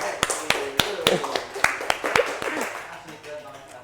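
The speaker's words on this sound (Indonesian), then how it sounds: "Tepuk tangan sama-sama." A small classroom group claps together for a first-place winner during a microteaching session: several sharp, distinct claps in an uneven rhythm over about two seconds, tapering off, with a voice speaking alongside.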